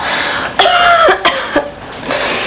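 A person coughs twice, close and loud, in short harsh bursts with a brief throat-clearing rasp between them and a quieter sound trailing after.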